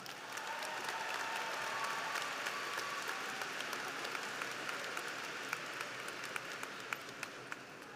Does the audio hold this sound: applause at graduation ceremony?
yes